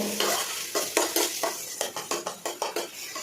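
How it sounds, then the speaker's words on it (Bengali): Egg stir-fried slowly in a pan with a pinch of salt, a steady sizzle broken by a series of rhythmic scraping strokes of a spatula, close and fairly loud, with no talking. "ডিমটাকে যখন ধীরে ধীরে করে ভেজে নেব"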